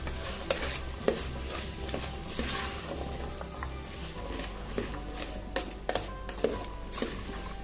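Vegetables for biryani are stirred in a pressure cooker, giving a soft ongoing sizzle broken by sharp scraping clicks of the spoon against the metal pot.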